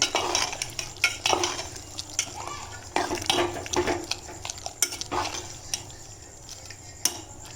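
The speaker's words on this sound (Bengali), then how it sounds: "এবার ভালো করে মিশিয়ে নেব" Vegetables being stirred into jackfruit-seed khichdi in a pot, a steady scraping and clinking of a spoon against the metal with light bubbling underneath, close and continuous.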